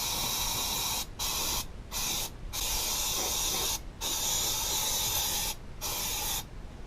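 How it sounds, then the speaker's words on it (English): An aerosol can of brake cleaner hisses in several long sprays onto a brake rotor, stripping its anti-rust coating, separated by short pauses, close and steady. "spray it down with brake cleaner to get all this anti-rust coating off of here"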